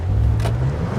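A BMW M5 launches hard in manual mode, its engine a loud, steady low rumble that builds briefly and then holds through a short, close burst of acceleration.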